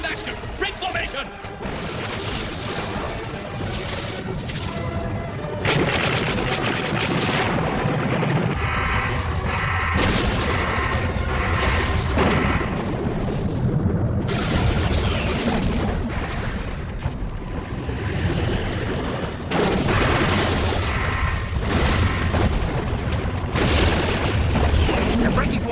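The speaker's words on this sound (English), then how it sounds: "It's a fusion torpedo attack!" Fusion torpedo explosions striking ships in a sci-fi animated series, with continuous loud booms, crashes and mechanical blasts layered under urgent dialogue and music.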